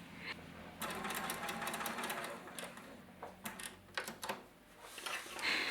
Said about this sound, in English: Machine a straight stitch just inside the seam allowance through the single layer of fabric.